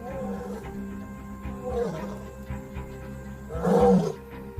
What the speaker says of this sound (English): The roar can be heard over 8 kilometers away.